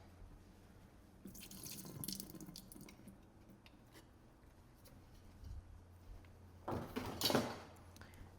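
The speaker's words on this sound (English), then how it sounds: "I'm gonna pour off this water" Water drained from a can of tuna trickles and drips into a kitchen sink in two short bursts, a soft pour early on and a louder splash near the end, with quiet between them.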